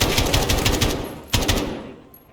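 Rapid automatic gunfire in Call of Duty: Modern Warfare 2019 rattles loud and close, with a short break and then another burst that tails off into a quieter ringing decay.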